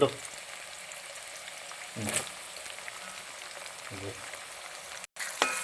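About 150 grams of finely chopped ginger fries in oil for a Kerala-style fish pickle, giving a steady close sizzle with a few brief stirring bursts and a short dropout near the end.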